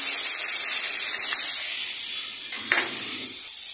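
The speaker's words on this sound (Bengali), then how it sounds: "এইটা আলুগুলোকে একটু ভালো করে লাল লাল করে ভেজে নেব" Potatoes fry in a pan after paneer, a steady close hiss of hot oil that fades slightly, with a brief clatter near the end.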